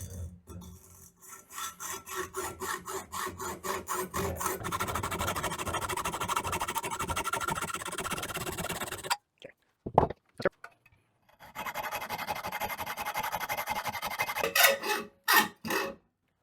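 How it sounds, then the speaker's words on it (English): A copper pipe is sawn open with a hand saw, giving steady rasping strokes that run continuously, then break into short scraping bursts after a brief pause. The sound is loud and close. "To start with the copper pipe, well, you gotta cut the damn thing open."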